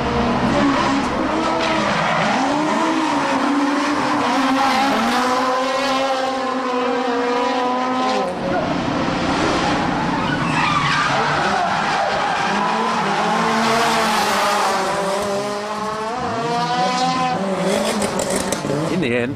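Red FC and S14 cars twin drifting at a Nakayama drift battle, engines revving loudly with continuous tire skidding and squeal throughout, a commentator talking over the constant roar.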